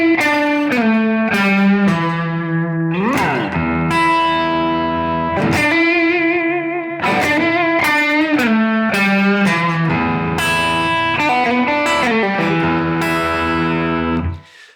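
Blues electric guitar lick in E from a 12-bar blues, played through an amp with effects and a touch of distortion; bent and sustained notes and quick phrases ring out loud and alone for about fifteen seconds.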